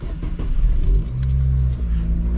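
A Chevrolet Celta 1.0 car engine revs up close, a low rumbling rise followed by a held higher-pitched rev that then eases slightly.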